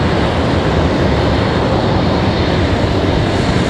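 An airliner at Raleigh Durham airport, likely bound for Atlanta, gives a loud, steady engine roar that stays broad and constant throughout with no voices.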